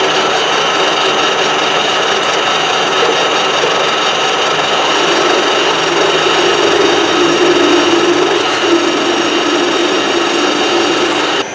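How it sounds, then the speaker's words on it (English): A loud, continuous mechanical whine of a power drill running steadily with a bit just over 16mm, with a slight shift in pitch partway through. "I've got a drill here that's just a tad over 16mm"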